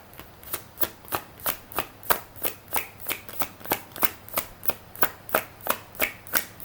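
Tarot cards being shuffled by hand, a steady run of about sixteen crisp, evenly spaced riffling bursts, close and clear, with no voices.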